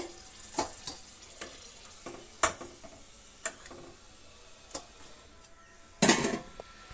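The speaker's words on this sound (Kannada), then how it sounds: "ಕರ್ಚಿಕಾಯನ್ನ ಡೀಪ್ ಫ್ರೈ ಮಾಡುವಾಗ ಹಾಕಿದ ಒಂದೇ ನಿಮಿಷದಲ್ಲಿ ನೀವು ಅದನ್ನು ಟರ್ನ್ ಮಾಡಿಬಿಡಿ" Karchikai (karikadubu), a crisp sweet dumpling, is fried in hot oil, with a soft sizzle under scattered stirring clicks and utensil taps and a louder burst of spatter near the end.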